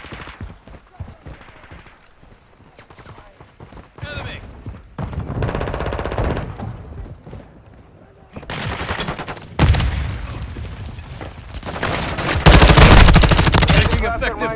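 Bursts of automatic gunfire from a Call of Duty: Modern Warfare II match, coming in loud clustered volleys and rattling strings that grow denser toward the end, with radio-style voice callouts between them.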